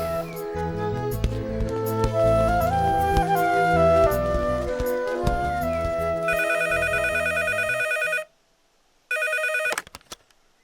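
Music plays, then a telephone ringtone sounds loudly and close by in two bursts separated by a brief silence.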